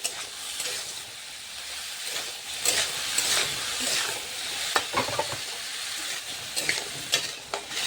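Food fries and is stirred in a pan with salt and turmeric, a loud close sizzle punctuated by repeated scraping strokes of the spoon.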